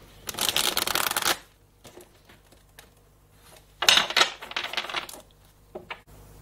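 A deck of cards is riffled and shuffled in two close, crisp bursts, with softer taps and slides between them as cards are drawn and laid down, no one speaking.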